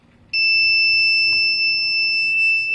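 An Arduino buzzer switches on abruptly with a steady, piercing electronic beep, holding at a constant pitch without pause, loud and close.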